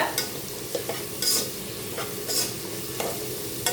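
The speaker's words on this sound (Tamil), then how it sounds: "புதினா சேர்த்துட்டு நல்லா வதக்கி விடுங்க" Mint leaves sauté in a pan for vegetable brinji rice, with a soft steady sizzle under repeated scraping stirs of a spoon, a few sharper scrapes roughly every second.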